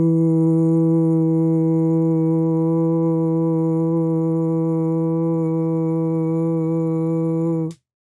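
A voice imitates a didgeridoo, holding a steady, deep droning tone with rich overtones for nearly eight seconds before cutting off abruptly; close and loud, with no other sounds.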